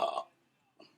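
A single loud, rasping human burp up close, followed by a brief fainter trailing gurgle.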